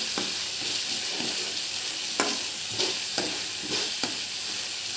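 Sliced spring onions are stirred into a pot of beef-bone Soto Madura. A ladle scrapes and knocks in an irregular rhythm over a steady bubbling hiss. The sound is close and moderately loud, and no one speaks.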